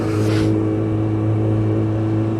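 A car engine runs in first gear, loud and close, with a brief rise near the start before settling into a steady droning hum inside the cabin.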